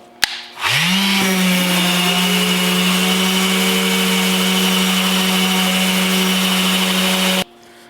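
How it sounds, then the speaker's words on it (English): A power sander with 120-grit paper sanding a wooden frame whirs up and runs steadily at a loud, even pitch for several seconds, then cuts off abruptly. "We're going to sand it with 120, and then we will work our way up to 220"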